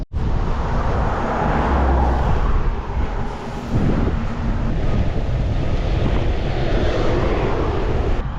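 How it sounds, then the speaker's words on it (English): Strong wind roars across the microphone of a cyclist riding across Georgia between Batumi and Tbilisi, a loud, constant buffeting rumble that barely lets up for the whole stretch. "The wind is insane today."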